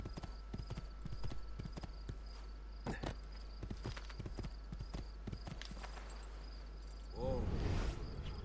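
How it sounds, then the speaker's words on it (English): A horse galloping across the Tuscan countryside in Assassin's Creed 2, with rapid rhythmic hoofbeats over a constant hum and insect chirps, ending in a loud whinny. "Galloping across the countryside."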